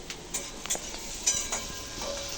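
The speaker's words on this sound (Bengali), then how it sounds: "আলু ভাজা একটু বাকি আছে" Potatoes frying in a pan, a faint steady sizzle with a few soft scrapes and clinks of a utensil, no talking.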